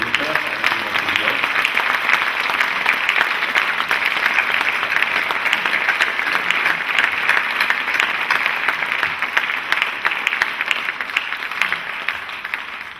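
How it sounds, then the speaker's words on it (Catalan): An audience breaks into sustained, even applause after an evening program on Turandot, many hands clapping steadily for over ten seconds before tapering slightly. "Crec que un aplaudiment fort."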